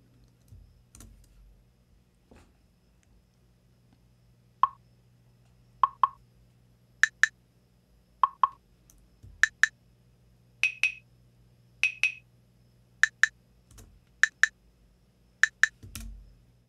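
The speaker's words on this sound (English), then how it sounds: "essentially you heard a tap delay of about a quarter of a beat here" A sound file played through a tap delay in SuperCollider at about 50 beats per minute, with short clicky hits each followed by quick repeats a fraction of a beat later, spaced evenly over a low steady hum.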